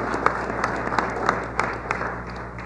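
A modest audience at a UFL Championship press conference gives soft, scattered applause, with a few sharper individual claps standing out over a thin crowd wash at low-to-moderate level.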